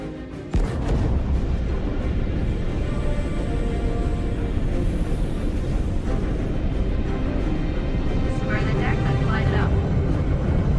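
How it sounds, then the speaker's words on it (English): A spacecraft launches off a carrier deck in Star Citizen's Squadron 42 with a loud, sustained roaring rush that swells suddenly and holds steady, while voices carry over it. "Ready and hold on as you're launched off the deck of the carrier."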